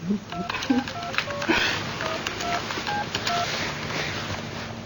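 A telephone number is dialed, producing a quick series of distinct DTMF keypad tones spread across a few seconds, fairly close, with a sniff and faint background noise.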